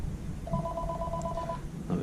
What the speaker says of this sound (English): Sorry, that's my phone ringing.